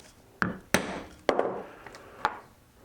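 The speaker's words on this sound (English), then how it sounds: "if we want to put a new rivet in, let's do it. We'll set it again just for fun." A quick rivet being set with a hammer, four sharp close strikes spaced unevenly over a few seconds, each ringing briefly against a quiet background.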